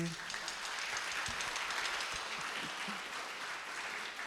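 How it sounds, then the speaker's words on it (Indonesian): Wedding congregation applauding a newly married couple and their family, a steady broadband patter of many hands that stays fairly quiet and distant, with voices murmuring underneath. "Tepuk tangan buat keluarga baru."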